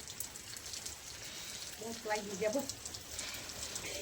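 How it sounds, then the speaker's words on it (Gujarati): Light rain hisses softly in the background while a voice murmurs briefly in the middle. "અત્યારે વરસાદ ચાલુ થઈ ગયો છે"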